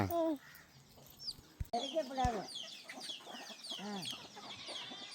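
Hens and small chicks cluck and cheep close by in a village yard, repeated calls scattered across the moment over rustling background noise.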